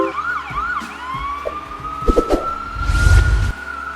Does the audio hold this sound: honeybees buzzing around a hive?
no